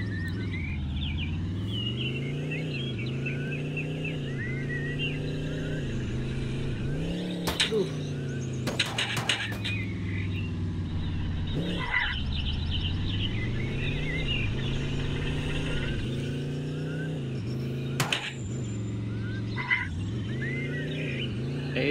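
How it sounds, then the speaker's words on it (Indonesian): Car engine in the video game Dude Theft Wars, a steady droning hum that rises and falls in pitch as it drives, with a few short clatters and chirpy game sounds on top. "bawa mobil balik ke rumah"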